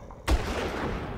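A single sniper rifle shot fired in the Far Cry video game, a sudden loud close crack with a booming low thump that rolls into a broad, lingering echo tail.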